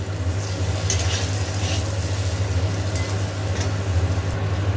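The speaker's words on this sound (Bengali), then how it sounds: "এখানে আলুগুলো ভাজি" Potatoes frying with spices in a pan, a continuous loud sizzle close up with irregular stirring scrapes and a low steady hum beneath, no voices.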